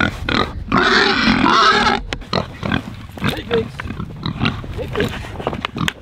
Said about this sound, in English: Check on the pigs, see if they ate their food.